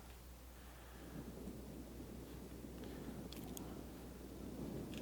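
Steady rain and low rumbling thunder during a battle in the strategy game Rome 2, a quiet, continuous wash of rainfall under a faint rolling rumble, with a few brief higher ticks partway through and no voices.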